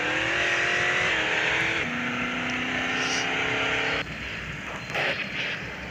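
A modified Ford Everest engine in the video game GTA San Andreas revs and accelerates, its tone climbing in stepped gear changes before dropping off, loud and continuous.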